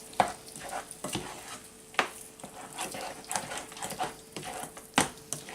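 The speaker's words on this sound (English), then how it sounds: "Stirring it." Vanilla being stirred into a warm pumpkin spice mousse mixture, a series of close spoon knocks and scrapes against the pot every second or so over a soft bubbling hiss.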